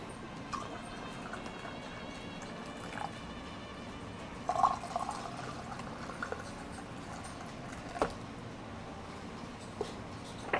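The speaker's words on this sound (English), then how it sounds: "That's just part of the preheating process of the china, so it doesn't crack when we pour boiling water into it eventually." Hot water poured into a china teacup to preheat it, a faint trickling pour with light drips and clinks set against quiet room tone.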